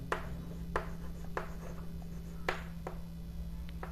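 Answer written on a classroom board during a maths lesson: several distinct scratchy strokes arriving in an irregular rhythm over a steady low hum, with no talking.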